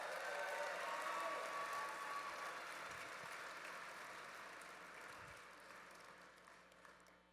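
Audience applause at a Preservation Forward forum for Chicago Women in Trades: a dense, even wash of clapping that begins full and slowly tapers off over several seconds, fairly distant and without any voices.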